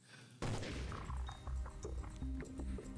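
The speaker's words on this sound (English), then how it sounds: "They both jumped as another gunshot ran out, this time much closer than before." A sudden loud gunshot bursts in, followed by a jumble of heavy thuds and crashing impacts over about two and a half seconds, close and dense, with no talking.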